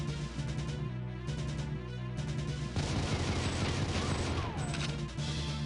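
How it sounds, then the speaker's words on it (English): Enemy gunfire in a Goldeneye 007 mod of Mario 64 inside Peach's castle: dense, crackling bursts of shots pile up over steady looping game music, growing heavier and continuous through the second half. "they've got guns, they're shooting at us"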